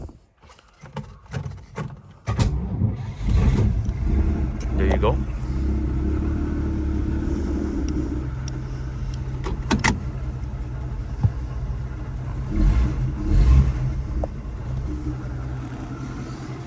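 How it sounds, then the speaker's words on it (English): A 1950s Chevy Deluxe starts with a few clicks and a short crank, then settles into a steady low engine rumble close by, with a person speaking briefly over it. "I'm gonna go ahead and start the car."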